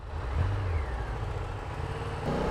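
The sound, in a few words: old motorcycle with sidecar passing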